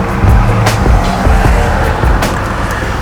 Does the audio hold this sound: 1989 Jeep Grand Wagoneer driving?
yes